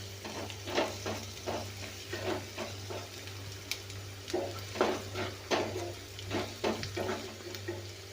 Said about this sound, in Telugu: కొంచెం ఇలా ఆ కారం అనేది పచ్చి పోయేంత వరకు ఇలా వేపండి